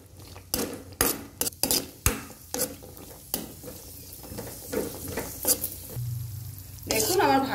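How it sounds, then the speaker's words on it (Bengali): Cashews and raisins fry in hot oil for a semolina cake, a steady sizzle broken by sharp clinks and scrapes of a spoon stirring in the pan, close and fairly loud. "এবার কেকের জন্য কাজু কিশমিশটা ভেজে নেব।"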